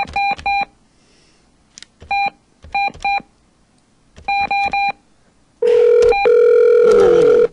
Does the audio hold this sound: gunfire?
no